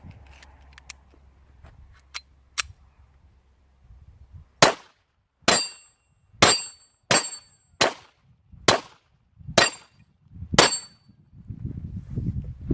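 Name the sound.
gunshots from surplus Bulgarian Makarov 9x18mm pistol at range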